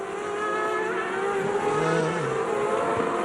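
A GP2 race car with a stuck throttle at the Hungarian round, its engine holding a loud, steady high-revving drone throughout with no break, a faint lower tone sliding briefly underneath.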